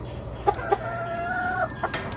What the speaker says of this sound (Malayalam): ഇവിടെ ഫുഡ് കൊടുക്കുന്ന കാണുമ്പോൾ പുറത്തെ സൈഡിൽ നിന്ന് എല്ലാ കോഴികളും വരും